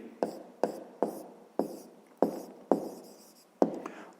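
Pen strokes on paper while math notes are written by hand, a steady series of about seven short scratchy bursts, each starting sharply and fading, close and quiet with no talking.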